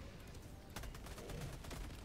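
Rapid autocannon fire in the shooter Helldivers 2, a continuous dense barrage of heavy bursts with sharper cracking shots, loud and unbroken with no talk.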